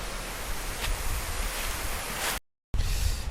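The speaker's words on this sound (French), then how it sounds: "Là je pense qu'on entend le vent, on entend la fontaine." Wind rushes over an outdoor fountain in a continuous broadband hiss, loud and close to a lavalier microphone, briefly cutting to silence before resuming.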